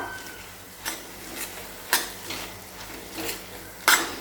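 Spoon stirring onion greens into eggplant bharit in a pan, a series of about six separate scraping strokes at an uneven pace, close and moderately loud, with a faint sizzle between strokes.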